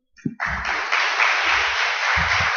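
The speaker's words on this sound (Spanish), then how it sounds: "Por favor, les pido un aplauso." Audience clapping at a session of a national forum of information professionals, a sustained burst of applause rising quickly and holding steady, with a few low thumps and murmurs underneath.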